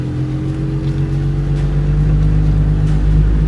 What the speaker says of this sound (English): Just need to not spin my wheels here.